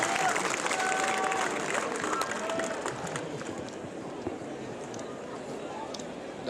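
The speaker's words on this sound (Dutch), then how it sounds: "Het publiek begint te klappen." Tennis final audience applauding, a dense steady wash of clapping and crowd noise that slowly thins and softens, with faint voices mixed in.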